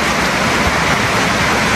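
Heavy rain pours down steadily and loudly, a dense close-up roar of drops hitting surfaces, continuous throughout with no voices.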